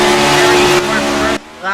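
Race cars in a Daytona stock car racing video game roar off at the green flag, a dense, loud engine drone that drops away sharply near the end, with commentary talking over it.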